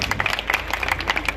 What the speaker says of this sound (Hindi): तालियां बजाकर उनका भी स्वागत।